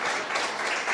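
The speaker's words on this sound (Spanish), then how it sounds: "Dale un aplauso a Cristo" A church congregation applauding during a service, a brief burst of dense, steady clapping that fills the whole moment.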